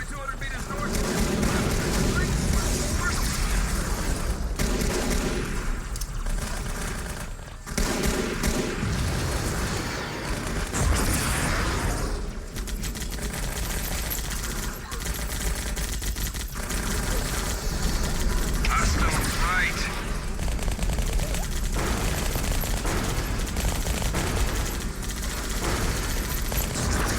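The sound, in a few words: hostile artillery and gunfire in an Xbox video game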